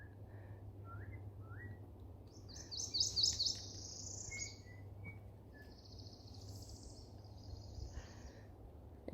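Birds call at a conservation park in Panama City Beach, Florida: faint, clear whistled notes and chirps rise over a steady low hum, with one brighter burst of whistling midway.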